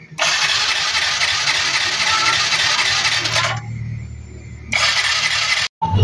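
A Yamaha Mio i 125 scooter engine is cranked and catches, a loud buzzing run broken by a brief quieter lull before it revs again and cuts off abruptly near the end.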